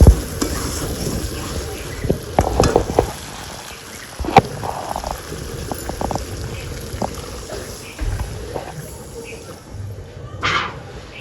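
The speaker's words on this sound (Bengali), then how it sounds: "ভেজে রাখা আলুগুলো দিয়ে আর একটু কষিয়ে মাংসটা আমার কষানো হয়ে গেছে এর মধ্যে এবার আমি জল দিয়ে দেবো" Sizzling meat and potato curry in a pan as water is poured in and stirred, with bursts of hiss and scraping clatter, irregular and close, some louder spikes of utensil knocks against the pot.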